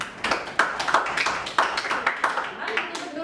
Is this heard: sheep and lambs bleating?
no